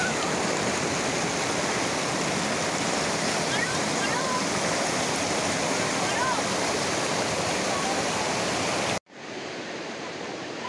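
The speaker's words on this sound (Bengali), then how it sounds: "প্রবল স্রোত, দেখেই ভয় লাগছে।" A strong mountain river current roars nearby, cold snow-fed water rushing in a loud unbroken wash that cuts briefly and resumes slightly softer.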